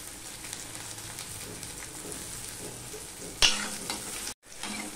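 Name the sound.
garlic and green chillies frying in a pan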